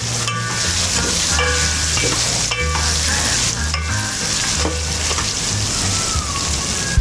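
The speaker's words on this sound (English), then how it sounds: "Now I think my meat is almost ready. So just try and mix it up." Beef pilau fries in a pot and is stirred continuously, a loud, steady sizzle broken by repeated scraping strokes of the spoon, close up and with no talking.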